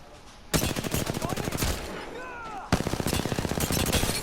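Rapid automatic gunfire in the video game Apex Legends comes in two long, loud bursts of evenly spaced shots, with a brief pause between them.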